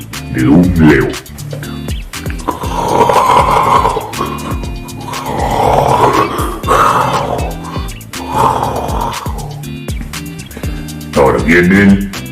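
A person imitating a lion's roar with a voice, several drawn-out growling roars close up, rough and loud, with short breaks between them.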